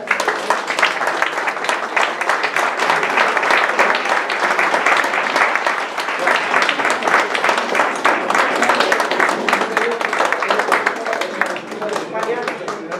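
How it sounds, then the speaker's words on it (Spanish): Sustained, lively applause from the audience at a poetry evening as a prize goes to Soledad Martínez, many hands clapping densely and steadily for over ten seconds before easing slightly near the end. "un aplauso para ella"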